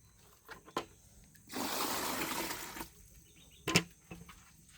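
Water is poured into a small pit while fishing for fish in a shallow hole, a faint splashing gush lasting over a second, framed by sparse clicks and a sharp knock.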